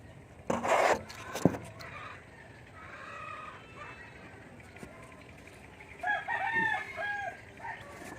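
Rhode Island Red chickens are heard at a nest area: a loud crow rises early, brief clucks and rustling follow, and a rooster crows again near the end.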